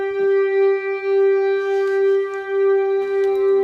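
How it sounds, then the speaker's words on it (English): A sustained GarageBand synth pad, the Cinematic Suspense preset, holds a steady tonal drone rich in overtones, with airy shimmering textures swelling above it and a shift in tone near the end; it is played alone, with no voices. "a pad called Cinematic Suspense on GarageBand, which sounds a bit like this."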